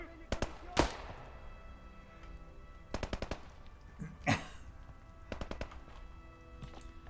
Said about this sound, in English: We're having an exchange of fire here with the guy with a pistol.